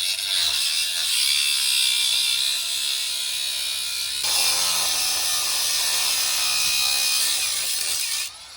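A power tool cuts metal in a workshop before a differential is welded for an exhaust job on an SC400, giving a loud, continuous harsh grinding whine that shifts tone partway through and stops abruptly near the end.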